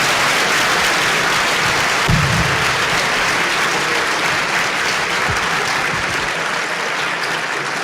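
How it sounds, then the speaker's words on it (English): Students break into a steady round of applause in a school setting, dense clapping filling the room from start to finish at a loud, even level, with a brief low thump partway through. "Round of applause."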